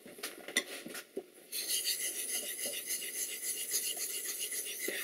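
A plane blade's back bevel is honed on a sharpening stone, producing a steady close rasping scrape that runs continuously after a few brief initial strokes, with no talk.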